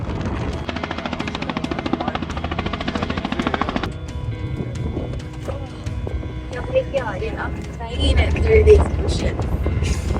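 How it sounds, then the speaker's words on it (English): A helicopter flies overhead during a rhino dehorning operation in the bush, its rapid rotor chop pulsing steadily before fading into mixed rumbling and other sounds, with voices at times. "We can hear the chopper above us."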